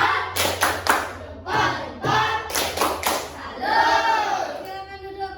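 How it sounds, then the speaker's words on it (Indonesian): A school class claps a rhythmic salute for a group of pupils in the classroom, with patterned bursts of hand claps and children's voices chanting along, loud and close. "Kasih tepuk salut untuk kelompok 2."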